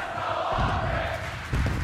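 An esports arena crowd at a Call of Duty major grand final between OpTic Texas and Toronto Ultra roars continuously, swelling again near the end.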